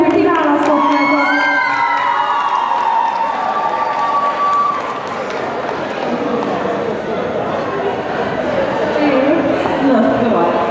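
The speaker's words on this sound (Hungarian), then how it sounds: "Tapsolják, hogy kiválasztottátok!" A crowd at a cosplay award ceremony cheers, whoops and shouts steadily for about ten seconds, a loud, dense wash of voices with some applause in it.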